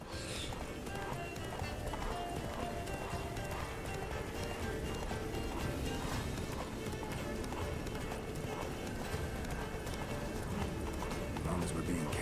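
Hooves clip-clop in a rapid steady rhythm as a horse gallops in The Witcher 3: Blood and Wine, running under ongoing speech with game music and ambience behind it.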